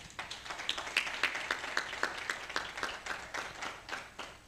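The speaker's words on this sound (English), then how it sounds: "A round of applause for Billy Kahora" A sparse group of people claps at a steady, rhythmic pace for a panelist at a literature and language studies panel discussion, each clap distinct and fairly close, with no talk over it.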